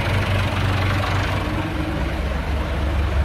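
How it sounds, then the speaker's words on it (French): A tractor engine runs steadily at the winery to drive the hydraulics while grapes are received, giving a loud, constant low rumble with no change in pace. "Et donc là je vais actionner l'hydraulique du tracteur."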